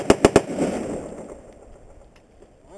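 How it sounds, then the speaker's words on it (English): Adaptive carbine firing three quick sharp rounds at targets on a range, loud and close, followed by a fading echo and quiet outdoor ambience. "You fire 3 rounds."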